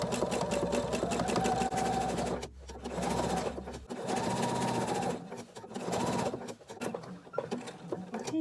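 A sewing machine stitches appliqué onto a small fabric coaster in several close, steady whirring runs separated by brief stops as the fabric is repositioned.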